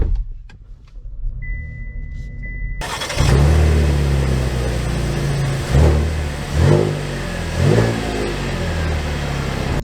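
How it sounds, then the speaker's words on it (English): A 2023 Chevy Traverse Premier starts after a faint click and beep, then its engine growls loudly as the SUV accelerates away, with several surging revs rising and falling as it pulls off. "Setting off in the Traverse"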